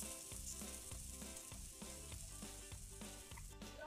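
Gram-flour-battered potato slices frying in a little oil, a soft continuous sizzle with faint crackle and a light periodic clatter in the background, quiet and close, no talk.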